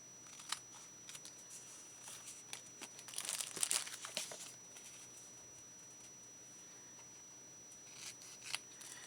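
Scissors snipping through paper scraps, a string of close crisp cuts with crinkling paper, busiest in the middle and fading to a few scattered snips.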